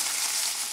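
Hash browns frying in a pan just after being flipped, a steady close crackling sizzle throughout with no talking.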